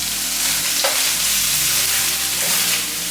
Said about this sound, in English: Now for the quart size jar, I scramble up 5 eggs.